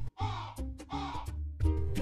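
A crow caws several times in a row, with loud, harsh, close calls separated by brief gaps and no other sounds.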